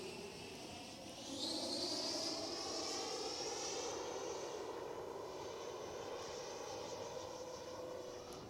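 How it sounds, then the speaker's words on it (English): An FMS Avanti S 90mm EDF radio-controlled model jet makes a low flyby, its ducted-fan engine giving a steady, far-off whine that swells and shifts in pitch as it passes, with no talking. "Come for a low flyby."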